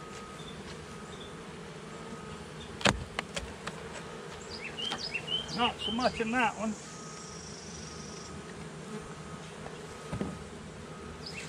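Honey bees buzz around an open hive during an inspection, with a steady insect hum, some closer buzzing passes and a few sharp knocks, while a person speaks briefly.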